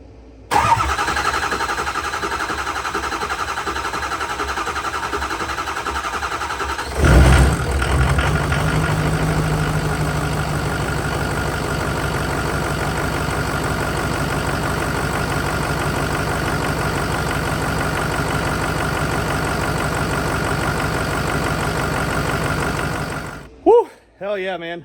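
A Ford F250 with a 6.0 Powerstroke diesel, restarted after sitting for two years, cranks and fires up, then settles into a steady, loud idle that continues close by with little change.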